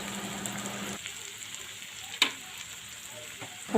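Beef tripe sizzles steadily as it fries in a pan while being stirred, a close, even hiss with one sharp utensil clack partway through and no talking.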